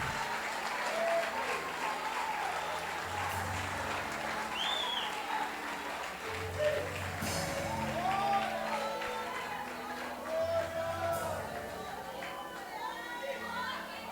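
Church congregation clapping in worship, a fairly faint, steady wash of applause mixed with scattered voices and cheers, rising and falling gently throughout.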